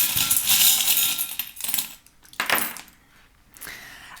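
Small divination charms rattle and tumble together close by, with bright metallic clinks and jangles in quick bursts, a few separate drops, and short pauses between handfuls.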